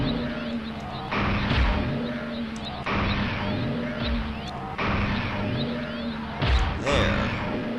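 Repeated shots of the shadow gun in Shadow Man, a few heavy whooshing blasts spaced a second or two apart over a steady droning game background, fairly loud and even, with no talk over them.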